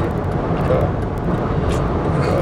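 An empty chicken truck passes on a road, a loud, continuous broadband rumble of engine and tires that holds steady and close throughout, with no clear talking.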